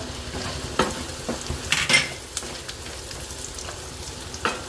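Steady sizzling of chopped carrots frying in a pan, broken by several sharp scrapes and clatters of a spoon stirring against the metal.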